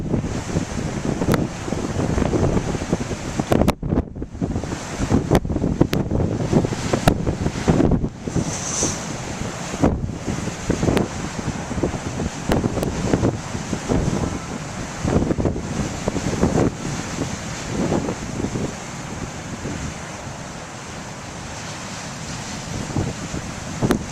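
Big ocean waves breaking hard along the shore, a continuous loud roar of surf mixed with heavy wind buffeting the microphone, no voices present.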